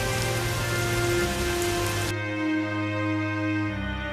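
Cartoon rain hisses steadily over sustained tones, and the backing changes abruptly halfway through while the rain continues.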